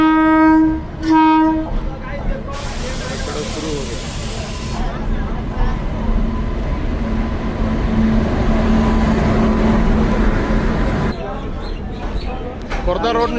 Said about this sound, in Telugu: కుర్దా రోడ్ నుంచి పూరికి వెళ్ళి ట్రైన్ అయితే వచ్చింది